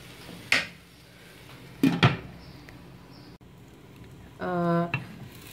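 A spoon scrapes and clinks in a pot of Kerala-style mutton curry, with a few sharp metallic knocks, then a lid rattles down to cover the pot near the end.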